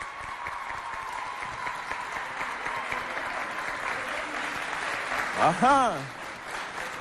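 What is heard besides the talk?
audience applause for a candidate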